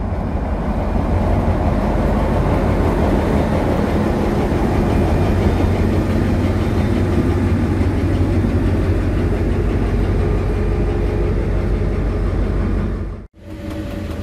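A French CC 72000 diesel locomotive rumbles steadily as its train pulls into Granville station, a loud, continuous engine and rail drone with no voices, cut off by a brief dropout near the end.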